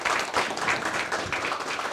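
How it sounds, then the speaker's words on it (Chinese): A seated audience at a book-launch panel discussion on Taiwan's tech industry claps to welcome a guest professor, producing a short, close burst of hand clapping with no talking. "掌声欢迎"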